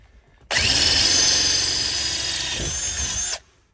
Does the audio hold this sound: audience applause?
no